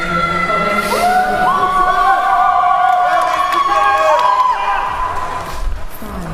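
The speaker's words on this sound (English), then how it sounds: "A lot of contestants and friends cheering the athletes. You can hear the screams behind us." A crowd cheering at a Ninja World Cup Europe open eliminations event, with loud whoops, shouting and screams plus a few bangs, continuing throughout the clip.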